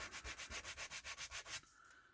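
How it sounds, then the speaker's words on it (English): Sandpaper rubs flash off a small N scale model part from a DPM Cricket's Saloon kit in about eleven quick, even strokes, close and crisp, before stopping abruptly. "we're just going to take care of that right now with the sandpaper"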